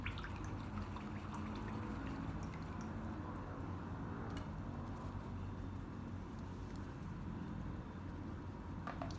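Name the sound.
paintbrush being washed in water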